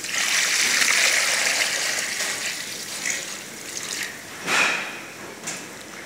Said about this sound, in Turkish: Suyumuzu ilave ediyoruz.